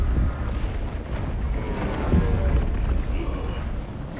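A grenade blast in Warhammer 40K: Space Marine 2 erupts as a dense, sustained roar of explosive rumble and debris, loud and continuous, with a brief higher hiss near the end.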